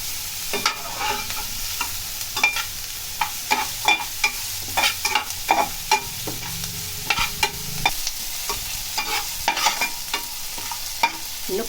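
Salted onion sautés in a pan for potato gotsu, a close, continuous fry sizzle broken by frequent sharp scrapes and knocks of a stirring spoon.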